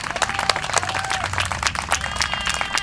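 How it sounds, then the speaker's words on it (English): A short burst of applause, many hands clapping in a quick, dense patter from a small crowd. "Do we have an applause?"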